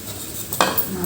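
A pot of cooked cabbage lifted off the stove gives one short metallic clatter, close by, over faint background sizzle.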